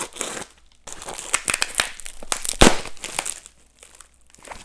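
Crinkling and tearing of a taped plastic package being pulled open, loud close rustles with sharp rips and a strong tearing burst midway, then quieter crumpling.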